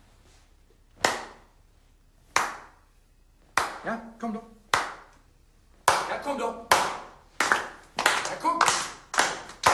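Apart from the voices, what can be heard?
applause for Jonas Mittander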